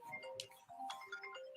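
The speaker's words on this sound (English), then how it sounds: "No, that's a phone call that I'm going to have to take later." An iPhone ringtone from an incoming phone call plays on its own, a short melodic electronic tone sequence at moderate level, with no voices over it.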